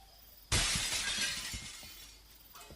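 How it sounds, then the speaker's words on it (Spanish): A glass window shatters with a sudden loud crash, then shards tinkle and scatter for about two seconds before fading, close and alone. "irrumpió el silencio un fuerte sonido de vidrios, rompiéndose"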